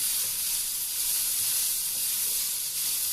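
Onions sautéing in a pan with salt for a simple tomato curry give off a steady, close sizzle and hiss that holds even and unbroken throughout, with no voices.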